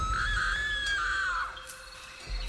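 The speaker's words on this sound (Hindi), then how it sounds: "जो उसने देखा उसे देखकर वो जोर से चीख पड़ी।" A woman lets out a loud, high, sustained scream that wavers and falls away, a horror-story sound effect standing alone against a dark background rumble.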